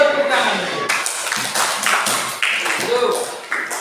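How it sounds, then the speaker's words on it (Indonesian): Schoolchildren clapping their hands in a primary school classroom in North Padang Lawas, Indonesia, in several short ragged bursts of claps with a quick rhythm, while voices speak over them. "Dan tepuk tangan."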